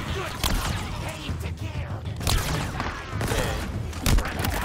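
Halo Infinite gunfire crackles in sharp, loud bursts, several rapid shots spaced irregularly across the moment over a busy rumbling game backdrop.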